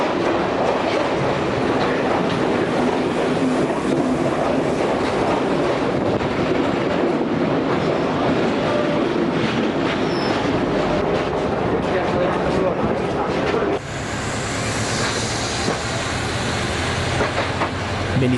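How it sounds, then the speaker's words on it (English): A train rumbles loud and close at Kelaniya railway station, with a dense, continuous roar of wheels on rails and clattering cars. The tone shifts near the end as the train passes. "This was the situation today at the Kalania railway station."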